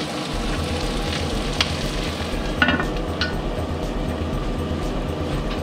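Potatoes and onions cooking in coconut oil with coconut milk and chickpeas, giving a steady low sizzle and bubble with a few faint clinks of stirring.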